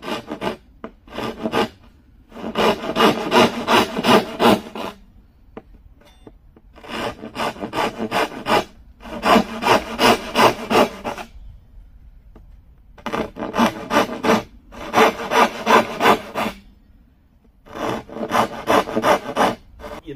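Handsaw strokes ripping lengthways through wood braced on a Roman workbench, in rhythmic bursts of rasping back-and-forth cuts separated by short pauses, close and loud with no talk.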